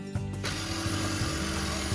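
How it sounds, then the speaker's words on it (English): A small cordless drill with a built-in light whirs steadily inside a camper under renovation. The motor starts abruptly and keeps running at a constant pitch with ratcheting mechanical clicks, loud and close, without talk. "what you drilling?"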